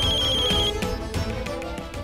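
A telephone rings with a steady electronic tone, loud and close for most of the clip, amid an indoor household scene in a Hindi TV drama, with background music underneath.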